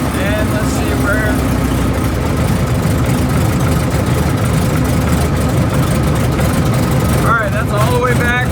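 An airplane engine idles after its idle setting has been adjusted, giving a loud, steady low drone throughout. Brief voices break through the running engine.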